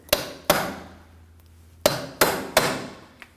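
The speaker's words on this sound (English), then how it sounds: "We're going to want to free that up using a punch and a hammer." Five sharp metallic hammer strikes on a punch freeing a CV axle from the hub of a 2003-2006 Subaru Baja 2.5L H4, one pair then a closely spaced group of three, each ringing briefly in an otherwise quiet space.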